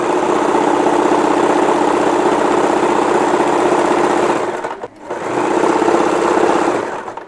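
Sewing machine stitching the edge of a ruffle saree, a loud, close, steady whirring run that dips briefly and resumes, with no talk over it.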